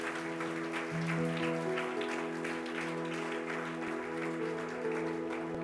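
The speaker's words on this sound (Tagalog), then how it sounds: "Yung the best na palakpak po sa Panginoon." Church congregation applauds during worship, a continuous spread of many clapping hands layered over sustained keyboard and music tones, moderately loud and even across the stretch.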